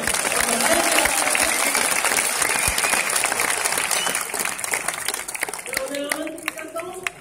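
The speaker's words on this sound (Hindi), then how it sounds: "जोरदार तालियां बजाएं" An audience at a Hindi kavi sammelan poetry gathering at IIT Kanpur's Antaragni festival claps loudly and steadily, a dense wash of applause that slowly thins out as a voice begins speaking over it toward the end.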